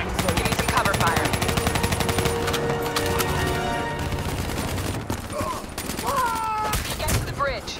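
Dense covering gunfire from automatic weapons rattles almost continuously in a Call of Duty Black Ops III battle, with shouted voices and sharp bursts rising over the steady roar of game music and combat noise.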